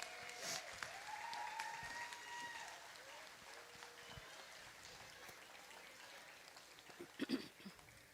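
Audience applause at a county fair dairy goat show, a broad patter of clapping at moderate distance that gradually thins out, with crowd murmur and a few voices over it and a brief louder burst near the end.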